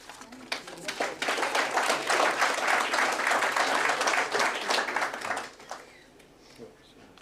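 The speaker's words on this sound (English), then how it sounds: "Another round of applause, colleagues." Applause from a university conference audience swells and holds as a dense, moderately distant patter of clapping, then thins out and fades, with faint speech as it dies away.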